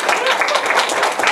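Applause from an audience at a technical talk on a Perl source code linter, a short burst of dense, lively clapping at close range with no pause.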